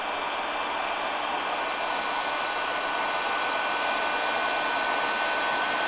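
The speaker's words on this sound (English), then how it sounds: "So now I'll just grab the heat gun." A heat gun blows steadily, softening the plastic end of a Wagtail squeegee handle for a Gardiner Quick-Loq connection, a constant close airy roar that does not change throughout.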